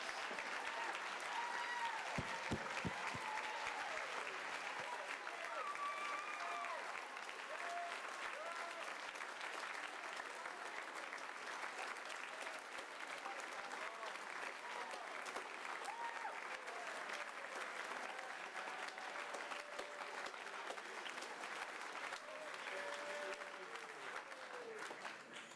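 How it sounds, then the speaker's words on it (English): Audience at a school instrumental concert applauding, sustained dense clapping from a large crowd that carries on steadily for about twenty-five seconds with a few faint voices mixed in. "let's applaud them"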